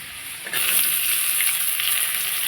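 Chopped onion drops into hot mustard oil over fried potato and whole cumin, setting off a sudden loud sizzle after a quieter hiss that then holds as a steady, close frying crackle.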